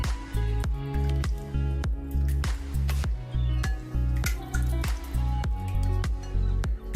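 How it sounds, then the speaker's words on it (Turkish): Egg, yogurt, olive oil and salt are mixed in a bowl for a pan pizza batter, making a fast regular squelching slosh of about two strokes per second, close and continuous, with no talk. "Şimdi bunları güzelce karıştırıyorum."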